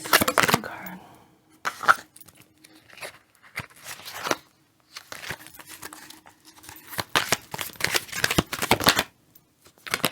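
Tarot cards shuffled and handled in irregular bursts of soft papery riffling and slapping, close and moderately loud, with pauses between bursts.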